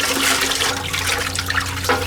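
Pork ribs rinsed under a running kitchen tap, with a steady close rush of water splashing over meat throughout, no talking.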